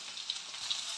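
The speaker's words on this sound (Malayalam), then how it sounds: "നമുക്ക് ഇതിലേക്ക് അരിഞ്ഞു വെച്ചിരിക്കുന്ന സവാളയും പച്ചമുളകും ഇട്ട് കൊടുക്കാം." Sliced onions and green chilies sizzle in hot coconut oil, a steady, close, bright hiss of frying with faint crackles throughout and no voices.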